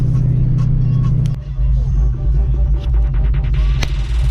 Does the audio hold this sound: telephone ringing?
no